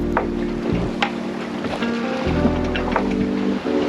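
Ocean waves wash and rush around a small sailboat sailing solo in gusty conditions, a continuous close churning with wind and hull noise, no talk.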